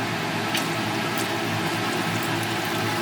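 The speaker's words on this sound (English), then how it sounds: "I'm going to add about a half a liter of distilled water." Distilled water pours into a gold refining solution made from gold-filled jewelry, a steady rushing, bubbling hiss that stays even and close for a few seconds, with no talk.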